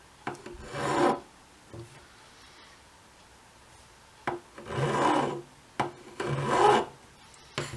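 A file crowning the metal frets of a guitar makes short rasping strokes, about five of them, separated by quiet pauses with small knocks, all close and fairly soft.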